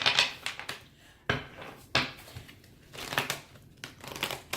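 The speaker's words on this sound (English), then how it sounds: "Please ignore my horrible shuffling right now." Tarot cards being shuffled by hand in clumsy bursts of riffling and slapping, close and fairly quiet, with several sharp card-flip clacks and pauses between attempts.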